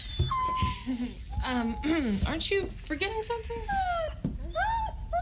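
A small dog whimpers and whines in rising, wavering cries that weave in and out of close, ongoing conversation between people.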